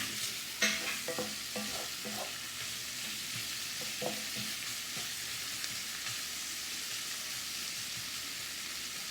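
Onions and peppers sautéing in a pan for Swiss steak, with close spatula stirring and scraping clatters at the start over a steady, continuous sizzle that carries on alone.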